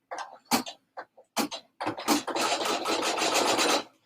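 An embroidery machine stitching an in-the-hoop purse, a few short bursts of needle clatter followed by a sustained rapid mechanical whirring run, close and moderately loud.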